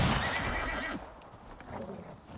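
A horse in the survival video game Icarus neighs shrilly while under attack from another horse, one loud whinny lasting about a second with hoof clatter, then quieter scuffling sounds.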